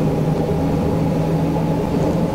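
An S-Bahn train in the OMSI 2 simulator, running through the snowy Ruhr area, pulls away under heavy power with a steady, loud, close rumble and a sustained low hum that holds throughout, with no talking.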